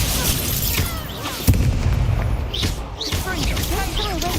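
A blasting spell in a Hogwarts video game goes off with a sharp booming burst partway through, set against game noise and a talking voice, with smaller pops and crackles trailing after.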